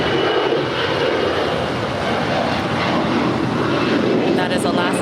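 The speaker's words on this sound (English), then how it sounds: "And that is Alaska Flight 208 off to Cabo. 10-year-old A320." An Alaska Airlines A320, about ten years old, departs LAX with a steady, loud jet engine roar under wind noise throughout, while a voice talks over it.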